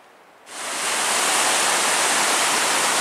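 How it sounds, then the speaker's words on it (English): A waterfall along the Superior Hiking Trail sets in abruptly as a loud, steady, broadband roar and holds constant, with no talking. "I can hear the waterfall off in the distance."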